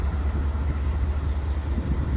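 A heavy freight train with 8,800 horsepower of locomotives on the head end pulls out of a siding, producing a steady, loud low rumble and engine drone throughout with no talk.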